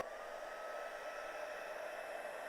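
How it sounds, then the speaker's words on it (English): A hair dryer blows steadily on a watercolour pumpkin painting, a constant close whooshing hum with a faint whine, alone and unchanging throughout. "I'm going to dry that off and then do the same again for the other pumpkin."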